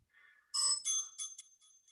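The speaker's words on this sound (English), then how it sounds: "And there's the bell." A workout timer bell rings during a bodyweight bootcamp session with a bright, metallic ding followed by a few quick, fading repeat tones, loud and clear with no talking over it.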